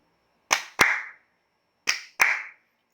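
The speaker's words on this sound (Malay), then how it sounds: "tepuk dua kali dan dua kali" Bare hands clap in a two-and-two pattern: two sharp claps close together, a pause, then two more, crisp and near with silence between.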